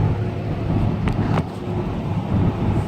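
A car cruises steadily along a road, its engine and tyre rumble forming a continuous low drone with some wind buffeting, close and even throughout.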